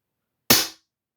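A single sharp crack from a SAM K11 .177 single-shot PCP target air pistol firing a pellet, loud and close, with a short decaying tail and silence on either side.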